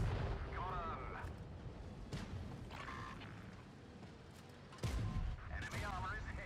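Tank cannon shots boom in the video game World of Tanks Blitz: a few sharp, heavy blasts spaced apart over continuous game engine rumble and whining effects, moderately loud.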